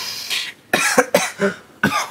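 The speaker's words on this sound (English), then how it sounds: "A fake cough turn into a real cough." Several harsh coughs in quick succession, close and loud, with brief gaps between bursts; no speech.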